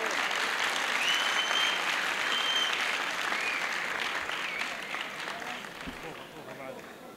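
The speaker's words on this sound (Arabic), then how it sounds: "التصفيق والترحيب بشعراء القلطة، فهم يستاهلون." Audience applause welcoming qalta poets at a wedding poetry evening, a broad crowd of clapping hands mixed with voices and faint whistles, steady at first then gradually fading.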